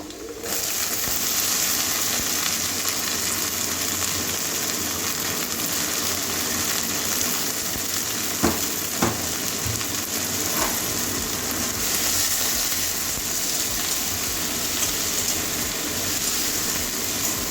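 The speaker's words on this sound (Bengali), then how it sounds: "এই যে পেঁয়াজ কলি আর উচ্ছে একসঙ্গেই ভাজবো।" Bitter gourd and onion stalks frying in plenty of oil, a steady dense crackling sizzle that stays even throughout, with a few faint clicks partway through.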